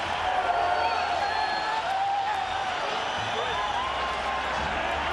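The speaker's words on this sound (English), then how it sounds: "Listen to this crowd." A boxing arena crowd roars and cheers at the close of a WBC light flyweight bout, a loud, dense, sustained wall of noise that holds steady throughout.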